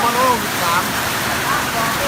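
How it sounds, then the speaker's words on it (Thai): Steady rain falling outdoors at a subdistrict administrative office in Kut Chum district, Yasothon, Thailand, heard as a constant close hiss with faint tonal sounds mixed in. "วันนี้มีฝนตกครับ"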